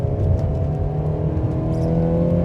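Mercedes 190E 2.5 16V four-cylinder engine heard from inside the car while driving, a steady low hum with a smooth whirring tone and slight revving, no talking over it.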